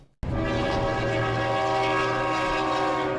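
A train passes through a town and sounds a loud, sustained horn that starts abruptly and stays close and steady to the end, with a low rumble of rail noise beneath it.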